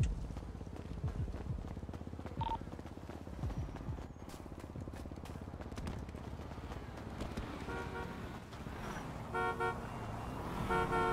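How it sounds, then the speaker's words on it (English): A car horn honks in a role-play video game, with a few short toots near the end of the clip over a dense, loud background of engine and street noise. "That's why I'm honking the horn"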